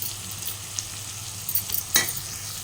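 Turmeric stirred into curry frying in oil: a steady, soft sizzle with light scraping strokes of a spoon, and a sharper clink and scrape near the end.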